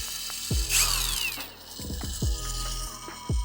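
A Pro-Craft PWA36 cordless impact wrench, dried out after being soaked in water, runs in several short bursts, each with a whirring spin-up and rattling hammering, close and loud.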